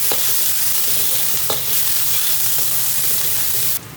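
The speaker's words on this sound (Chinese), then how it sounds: "油热后把青椒、豆丝下锅炒香。" Green peppers and bean strips stir-fried in hot oil in a wok, a loud, continuous sizzle with occasional scraping clinks of the spatula, cutting off abruptly near the end.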